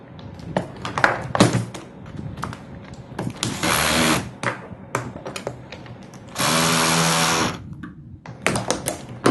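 Connections being tightened on a 6P 7S BatteryBlocs battery pack with a power driver, short bursts of whirring spin between metallic clicks and taps, with two longer sustained runs of the tool.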